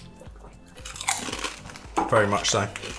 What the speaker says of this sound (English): And they're so crunchy, aren't they?